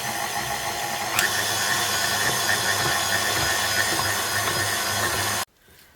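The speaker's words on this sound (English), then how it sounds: "Now I'm just going to use my stand mixer to mix this until it comes into a ball" Stand mixer kneading bread dough with room-temperature butter for Boston fruit buns, a steady loud motor whir with rhythmic mechanical clicking from the gears, running continuously before cutting off abruptly near the end.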